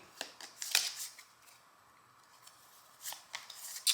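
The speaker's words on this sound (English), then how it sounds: "You want to shuffle that deck and just give them six cards from the top of their deck." Several quick, crisp riffling bursts of a Lawyer Up card game deck being shuffled, close up and fairly quiet, separated by short pauses.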